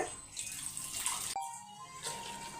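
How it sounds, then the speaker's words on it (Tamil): Water splashes and trickles steadily into a cooking pot of pea kurma, pauses abruptly for a moment, then resumes pouring; fairly quiet and close, no talking. "இன்னும் கூட கொஞ்சம் தண்ணி ஊற்றிக்கலாம் ஒரு கிளாஸு"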